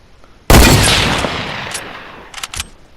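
A single loud gunshot from a 360 no-scope in a video game, a sharp close crack followed by a long fading echo, then a few softer clicks and clatters near the end.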